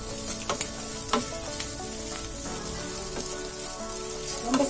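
Dried anchovy, nethili karuvadu, frying with curry leaves: a busy, crackling sizzle with repeated scraping stirs, close and steady throughout.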